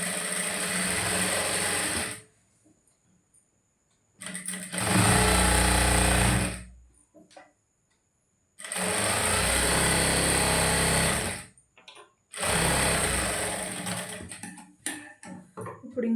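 Sewing machine running a seam along the folded edge of a blouse, in four long bursts of fast, even stitching with short quiet gaps between them, close and clear.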